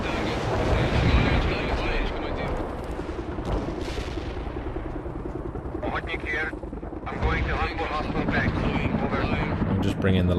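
A helicopter-like drone of game audio from World in Conflict, mixed with bursts of gunfire and explosions, loud and continuous throughout.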